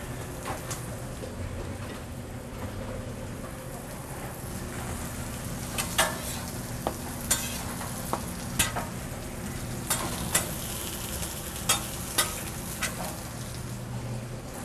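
Vegetables in oil sizzle steadily on a hot grill in a vegan restaurant kitchen, a dense continuous hiss punctuated by sharp clanks of a utensil striking the surface, loud and close with no talking.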